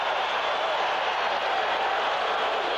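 Football stadium crowd roaring after a fumble recovery in a 1988 Cowboys–Steelers game, a steady dense wall of cheering noise, loud and unbroken.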